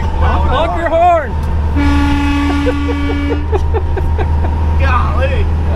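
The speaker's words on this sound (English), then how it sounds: "Honk your horn." A single long, loud horn blast from an M1070 8x8 heavy equipment transporter truck sounds in the middle, with brief voices and engine noise before and after it.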